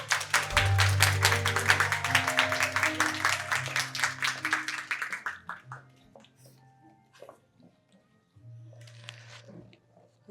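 Applause at a kindergarten graduation ceremony welcomes two teachers to the stage, a dense burst of clapping with music underneath that fades out after about five seconds, followed by quieter sounds and a faint voice.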